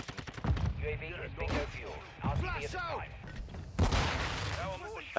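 X12 semi-automatic pistol fire in Call of Duty Modern Warfare 2, sharp separate shots in short bursts amid battle noise and chatter, with people talking throughout.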